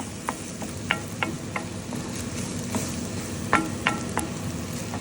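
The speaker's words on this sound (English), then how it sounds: "I think I put a little too much olive oil. That's why it was popping." Excess olive oil popping and sizzling in a pan as eggs are scrambled into cauliflower fried rice, a steady hiss broken by sharp irregular crackles and spits, close up with no talking.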